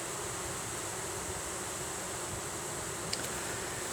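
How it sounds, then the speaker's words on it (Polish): A steady, dense buzzing drone of many honeybees inside a hive, cleaning out debris after a hive inspection, constant and close, with no voices. "pszczoły oczyszczają wnętrze ula z różnych e, śmieci, które powstały po przeglądzie"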